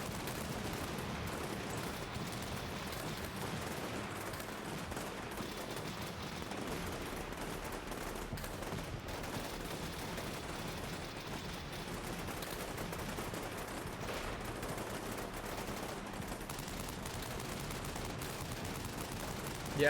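Gunfire rolls on continuously during an infantry assault exercise against a defended built-up area, a dense distant fusillade of overlapping shots and reports with no clear breaks.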